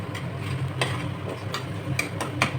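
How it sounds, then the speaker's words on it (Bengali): Spices stir-fried in oil in a pan for a cabbage curry, a close sizzle under repeated scraping stirs that come every half second or so, with no talking. "সব দিয়ে এখন ভালো করে কষবে"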